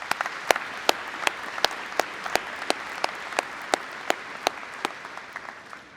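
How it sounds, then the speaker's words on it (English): Steady applause from a graduation ceremony audience honoring faculty and staff, a dense wash of clapping with sharp individual claps popping out at a regular pace, continuing without speech. "Let's give our faculty and staff a big round of applause."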